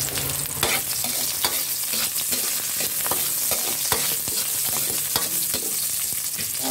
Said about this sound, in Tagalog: Gigisa na tayo ng sibuyas,